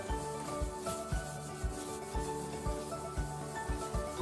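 Cloth soaked in acetone rubbed back and forth over a cardboard box covered in stuck-on paper, giving a steady scrubbing sound with soft rhythmic strokes roughly every half second, close and moderately quiet with no talking.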